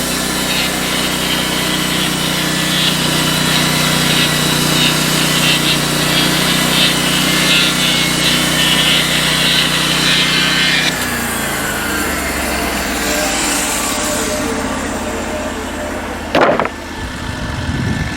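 A Norwood LumberMate sawmill blade cutting a poplar log into a 1x8x8 board, a loud continuous whine of engine and saw that shifts pitch partway, then winds down with a brief knock near the end.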